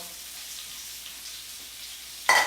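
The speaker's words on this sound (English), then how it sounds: "We want to caramelize the onions." Onions caramelizing in a hot pan give a steady, soft sizzle that runs alone, then a sudden louder burst of frying at the very end.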